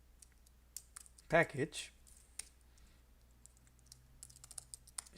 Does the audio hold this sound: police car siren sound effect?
no